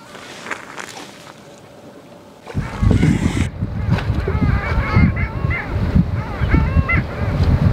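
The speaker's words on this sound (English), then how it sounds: "long-tailed ducks fly out of the port" Long-tailed ducks fly out of a harbour mouth where ships enter, giving repeated nasal, yodelling calls. The calls come in a loose series over steady wind and water noise that swells partway through.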